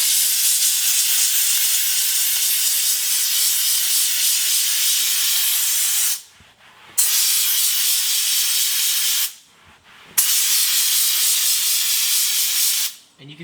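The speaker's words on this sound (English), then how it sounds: "So just spray it down with the steamer, and then wipe off all the excess water." A handheld steamer sprays leather car seats in loud, close bursts of hissing steam, with three short pauses between long sprays.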